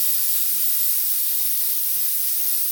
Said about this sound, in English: Now I'm just going to spray that all over this red.